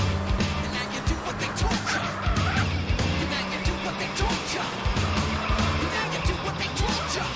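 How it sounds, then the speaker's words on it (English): A car in GTA San Andreas fishtailing and drifting, with tires squealing repeatedly over a loud, revving engine throughout, and a voice talking at times underneath. "Why is this car drifting so much?"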